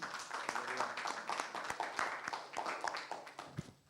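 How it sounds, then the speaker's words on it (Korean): Congregation clapping in praise during a Korean Sunday morning church service, fairly faint, with a brisk, somewhat rhythmic patter of hands and some voices underneath, fading out at the end. "우리 주님께 찬양과 영광의 박수 올려드리겠습니다."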